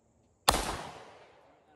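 A single sharp gunshot from a Shadow Systems MR920 9mm pistol fitted with a red dot sight, close and loud with a short decaying echo at an outdoor range.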